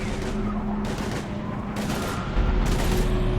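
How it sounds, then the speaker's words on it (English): Heavy gunfire in a Mass Effect 3 firefight against husks: a steady, dense clatter of rapid shots over continuous low rumble, with a louder burst near the end and a faint tonal hum. "We're taking heavy fire."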